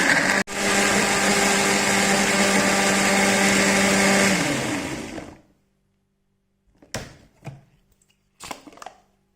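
Blender grinding spice paste for mullet fish, a loud steady whirring motor that runs for about five seconds and winds down to silence, followed by a few knocks and clatters.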